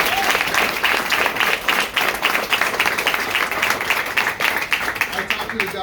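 A crowd at a beachside event on Clearwater Beach, Florida, gives a loud, sustained round of applause with pulsing clusters of claps, and some cheering voices mixed in.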